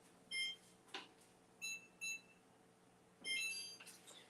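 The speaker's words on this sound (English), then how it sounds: "we'll do 22 minutes on the timer." An oven's timer gives short electronic beeps as it is set while brownies bake, a few separate single and double bleeps with quiet gaps between them, fairly faint.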